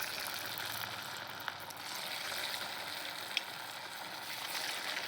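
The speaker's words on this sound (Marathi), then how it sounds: "कडक होईपर्यंत तळून घ्यायचे" Poha cutlets deep frying in hot oil, a soft continuous bubbling sizzle heard close but fairly quiet, with a couple of faint clicks and no talk.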